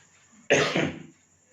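A single sharp cough bursts out close by, loud and abrupt, trailing off after about half a second in an otherwise quiet room.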